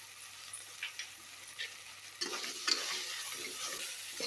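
A utensil scrapes and stirs mushrooms with salt, ginger and garlic in a pan with a soft sizzle, the strokes growing busier and louder partway through.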